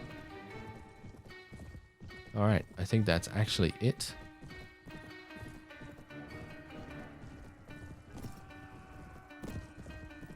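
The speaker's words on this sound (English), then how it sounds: "That's all thanks to the Noldor horse, by the way." A fast Noldor horse gallops in a Warband game mod, producing a burst of rapid, loud hoofbeats that fade into scattered clops, while someone talks over it.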